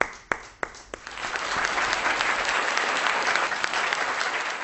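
An audience at a kavi sammelan, a Hindi poetry gathering, breaks into applause: a few sharp early claps swell quickly into dense, sustained clapping from a sizeable crowd nearby.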